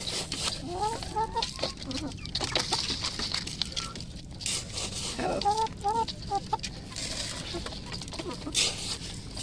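Hungry chickens cluck and squawk in short, eager bursts close by, with scattered pecking and patter, while a person talks in between.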